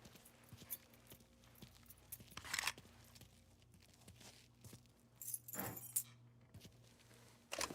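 Keys picked up in Mafia III, two soft, brief metallic jangles heard against a quiet background with faint shuffling.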